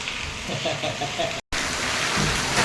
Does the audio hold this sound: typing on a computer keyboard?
no